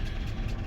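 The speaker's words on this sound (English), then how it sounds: "this truck pickup's been idling for" A pickup truck engine idles steadily, a low continuous rumble heard briefly and close with no talk over it.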